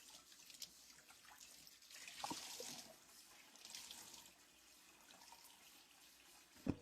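A cloth is rinsed under a running tap, with a soft, fairly faint stream of water and splashing that swells and fades as the cloth moves, ending in a sharper splash.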